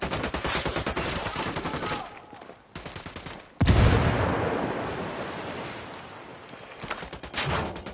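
Heavy automatic gunfire crackles in Ghost Recon Wildlands, with sustained loud bursts, a short lull, then a sharp blast that rumbles and fades before more shots resume.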